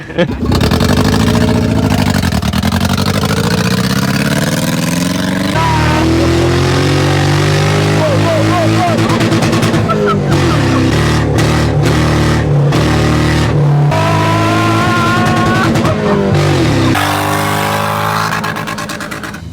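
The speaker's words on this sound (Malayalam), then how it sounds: "ഒരു അടിപൊളി ഓട്ടോ ക്രോസ് ട്രാക്കിൽ ഇഷ്ടമുള്ള രീതിക്ക് ഓടിക്കാം" Rally cars race around an autocross track at a motorplex, their engines loud and close, revving up and down in rising and falling sweeps with brief lifts between bursts of acceleration.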